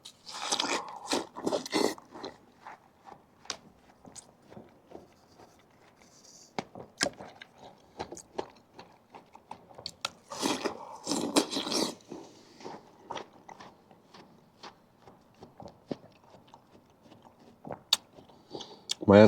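Close, crisp biting and crunching into Korean watermelon, followed by wet chewing in irregular bursts, fairly quiet, with occasional brief talk in between.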